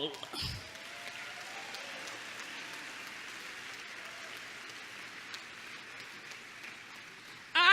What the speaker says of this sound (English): I hear you cheering